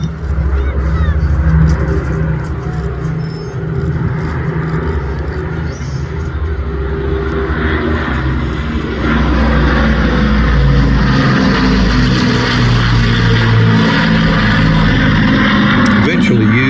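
A Battle of Britain Memorial Flight piston aircraft flies past at the Midlands Air Festival 2025 with a loud, continuous propeller-engine drone that swells as it passes. A commentator speaks over the engine noise throughout.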